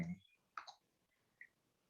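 A few sparse, quiet clicks from a computer keyboard sound in a still room, each one isolated with silence between.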